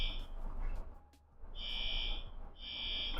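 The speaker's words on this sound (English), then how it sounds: "I think they're testing the fire alarm." A fire alarm being tested in a hallway sounds in loud, steady electronic buzzing bursts, with a short gap in the middle before the tone resumes and holds, all over a noisy indoor background.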